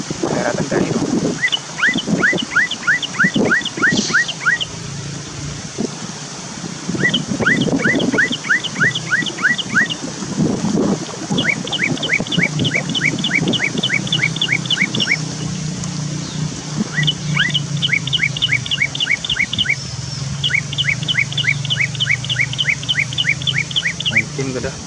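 A cucak keling songbird delivers repeated short bursts of quick, bright chirping notes in regular phrases, outdoors with wind and distant background noise, and people talking faintly at times.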